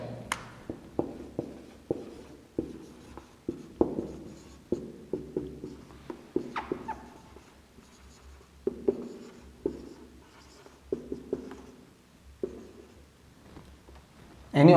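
Marker or chalk writing a physics statement on a board, a steady run of short scratchy strokes and taps in irregular bursts, close and fairly quiet, with no talking.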